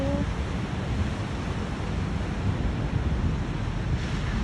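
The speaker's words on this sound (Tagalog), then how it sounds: "Ang ganda ng waves. Ang laki." Large ocean waves surging onto a Sydney beach, a loud, continuous broadband roar of surf with wind buffeting the microphone throughout.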